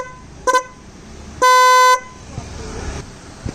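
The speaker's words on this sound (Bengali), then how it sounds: "একটা হর্ন বাজিয়ে, আওয়াজটা আপনারা শুনুন।" A modified horn fitted to a Hero Xtreme 125R motorcycle gives a brief double toot, then one loud, sustained half-second blast, close and bright over faint background noise.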